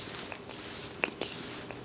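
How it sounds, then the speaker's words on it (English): Short hissing bursts of makeup setting spray, a few quick pumps of a light mist, close and fairly quiet with no talking. "That is a light spray, but it still puts a little bit of glow back into my makeup."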